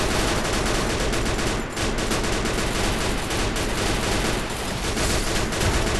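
Dense, continuous gunfire from the battle-royale video game Free Fire: rapid overlapping shots pile into a loud, sustained volley, with one brief dip before the firing resumes.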